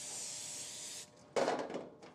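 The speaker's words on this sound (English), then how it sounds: "I'm going to go ahead and spray it as well." Cooking spray aerosol hissing into a half-cup measuring cup, one long steady burst for about a second, then a louder, rougher second spurt close to the microphone.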